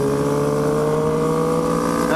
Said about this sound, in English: a BMW S1000RR flyby